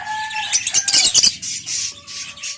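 African lovebirds kept in a home breeding setup give sharp, high chirps and squeaky calls in quick bursts, fairly close and loud, over a faint background hum.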